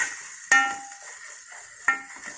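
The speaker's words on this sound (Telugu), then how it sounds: "స్పూన్ మీద కొంచెం అల్లం వెల్లిగడ్డ పేస్ట్ వేసాను. ఇది బాగా నూనెలో వేగనియాలి," Ginger garlic paste sizzling in hot oil while cooking chukkakura chicken, two sharp metallic scrapes of a spoon against the pan over a soft steady frying hiss, no voices.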